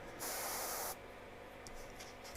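An airbrush spraying paint onto a model gives a short, soft hiss lasting under a second, followed by quiet with faint clicks.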